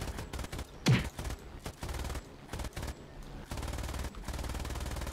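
Bursts of 7.7mm machine gun fire from an aircraft in War Thunder, rapid rattling volleys that repeat across the stretch at moderate loudness, with no talking over them.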